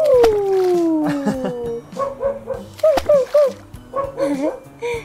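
A toy puppy from a Barbie doll camper set gives a descending electronic howl, then a run of short, loud, clipped barks and yips close to the microphone.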